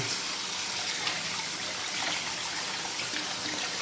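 Water steadily streams and trickles as cauliflower florets drain after soaking in cold water, a continuous broadband wash of moderate loudness with no pauses.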